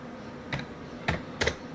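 A few separate keystrokes on a computer keyboard while a command is typed: three short clicky taps, close and moderately loud, with a faint background hum and no talking.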